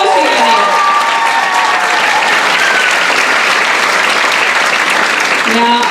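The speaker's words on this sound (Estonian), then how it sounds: "Nii et suur aplaus kõigile neile!" Audience applause for a belly dance troupe after their performance, a dense, steady wash of many hands clapping that stays loud throughout, with faint cheering tones near the start and end.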